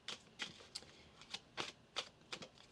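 Tarot cards riffled and shuffled by hand in a quiet room, a series of about eight short crisp flutters in an uneven rhythm, close and fairly soft.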